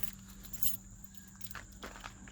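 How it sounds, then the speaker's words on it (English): Keys to a 1971 Ford Torino GT jangle briefly in a hand, a few light metallic clinks and rattles at close range, quiet and short, with no speech. "Grab the keys here."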